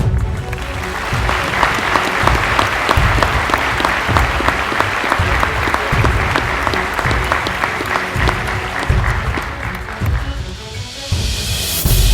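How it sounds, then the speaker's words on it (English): An audience at a police promotion ceremony breaks into sustained applause, a dense, even wash of many hands clapping that holds steady for the whole stretch before easing slightly near the end. "Please join me in another round of applause for Officer John Plord."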